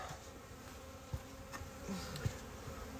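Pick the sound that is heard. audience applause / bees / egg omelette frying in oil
bees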